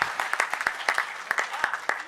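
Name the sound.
audience applause at a poetry recital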